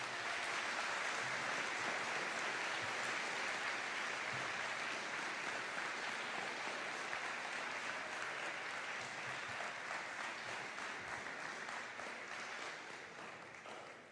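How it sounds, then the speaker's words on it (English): Audience at an armed forces commitment ceremony applauding graduating seniors, a long sustained roar of many hands clapping, thick and steady before tapering off at the end, with no voices over it. "Please join me in giving them all a round of applause."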